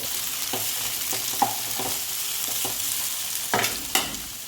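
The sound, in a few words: adding chopped capsicum to chicken manchurian in a hot wok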